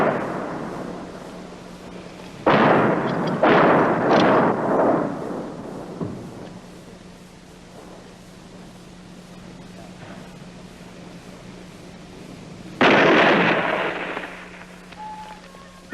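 Heavy fighting in Laos near Long Chen, heard as a few deep explosive booms from artillery and gunfire, loud bursts separated by quieter rumbling stretches, with no voices.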